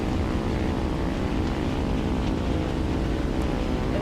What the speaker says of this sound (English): I'm a bomber plane.